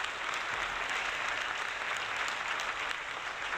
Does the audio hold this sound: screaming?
no